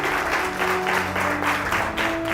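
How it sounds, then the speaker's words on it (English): At a live-streamed charity event honoring presenting sponsors, the crowd gives a loud, close round of clapping in rhythmic waves, with a steady low hum in the room beneath the hands. "A big round of applause for John and Christy Gibson."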